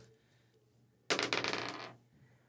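Ten-sided dice clatter across a tabletop during a tabletop dice game, a sharp rattling burst of about one second that stands out against quiet room tone.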